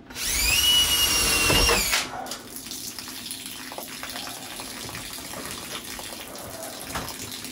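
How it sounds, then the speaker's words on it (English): Power drill boring a hole into the low spot of an old 1973 metal duct under a house, a loud steady high whine for about two seconds that stops abruptly, followed by quieter trickling and background noise. "I'm gonna drill a hole in the bottom of it."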